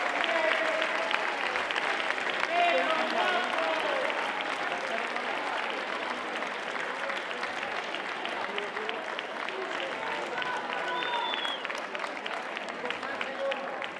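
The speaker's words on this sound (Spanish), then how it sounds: "¡Aplausos!" Sustained applause from the crowd at a murga contest award ceremony in Pontevedra, a continuous clapping wash at moderate level with voices and a little music faintly mixed underneath.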